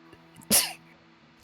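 A single sharp sneeze bursts out loud and close at once, a brief explosive burst over quiet room tone.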